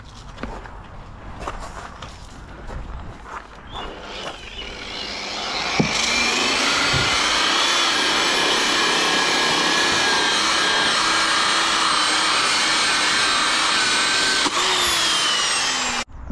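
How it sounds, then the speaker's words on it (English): A power sander with a 180 mm, 120-grit disc grinds across a wooden sleeper. A steady, loud whine holds from about six seconds on, after scattered handling knocks. "we're gonna be using the 120 grit sandpaper. It's a 180 mil disc."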